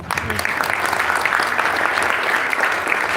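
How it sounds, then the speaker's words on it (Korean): Audience at a political party event clapping together, a thick, continuous burst of applause from a large crowd, loud and even from start to finish. "박수 한번 쳐주십시오."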